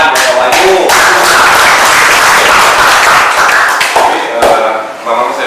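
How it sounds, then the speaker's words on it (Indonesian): Applause from an audience welcoming Pak Wahyu, a school alumnus, to the front: dense, steady clapping fills the room for several seconds, then thins near the end. "Tepuk tangan buat Pak Wahyu."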